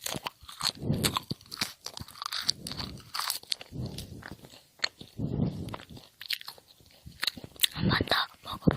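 Crunchy bites and chewing from a mukbang eater, repeated bursts of close, crisp crunching in a steady rhythm across the clip, with soft mouth noises between bites.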